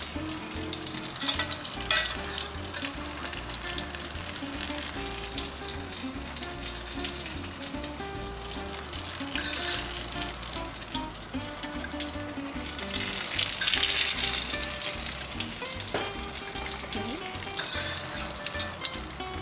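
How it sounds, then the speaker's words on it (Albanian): Peppers frying in a pan for stuffed peppers with cheese, a continuous crackling sizzle with faint clinks, swelling louder for a stretch midway before settling back. "Specat janë skuqur dhe tani po I heqim dhe I vendosim në piatë"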